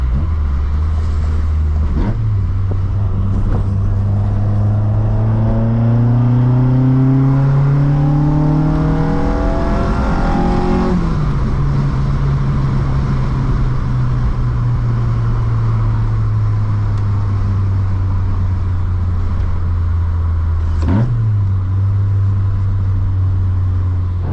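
A VW Mk2 GTI 16v engine on individual throttle bodies with adjusted cam timing revs up and settles into a lumpy, throaty idle, with sharp throttle blips; loud and close, no talking.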